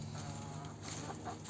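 Backyard chickens cluck softly and briefly while pecking at garden greens, a faint, low murmur of several birds close by.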